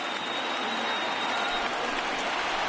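A stadium crowd of around 35,000 cheers on its feet during a baseball game in MLB The Show 19, a dense steady roar with no speech.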